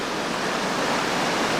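White water rapids rushing on a river, a dense steady broadband roar close by and continuous, with no voices.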